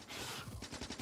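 Rapid turret gunfire in Factorio, a dense stream of loud, close shots with rhythmic bursts continuing throughout.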